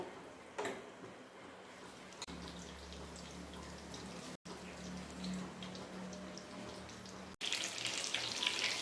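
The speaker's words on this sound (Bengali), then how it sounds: "এবার আমি চিকেনগুলো এক একটা করে আমি ভেজে নেব" Chicken pieces sizzle in hot oil for chilli chicken, a quiet steady hiss and crackle that jumps louder as more pieces go into the pan, with a couple of brief handling noises.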